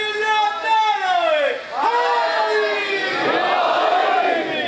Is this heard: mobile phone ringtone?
no